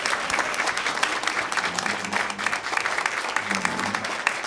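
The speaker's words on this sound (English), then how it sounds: "Let's give them a round of applause." An audience applauds tap dancers with brisk, even clapping that stays fairly loud throughout, joined by a faint murmur of voices.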